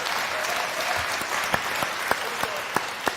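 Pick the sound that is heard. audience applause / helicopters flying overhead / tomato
audience applause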